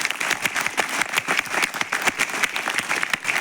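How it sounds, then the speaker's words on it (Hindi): A crowd of students claps loudly and steadily at a Physics Wallah event in Kotdwara, with dense, continuous applause throughout and no talking over it. "जितने लोग मानते हैं एक बार जोरदार तालियां बजा दीजिए।"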